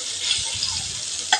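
Pointed gourd pieces fry in a pan with oil, giving a soft, steady sizzle close by, with a brief utensil clink at the end and no voices.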